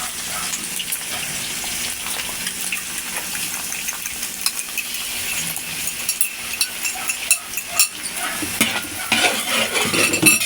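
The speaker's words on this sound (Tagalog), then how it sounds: "Haluin lang natin, haluin para hindi magbubuo." Egg stirred and frying in a pan for beef fried rice, a busy sizzle with repeated scraping and clinking of a utensil against metal, growing more active toward the end, close up.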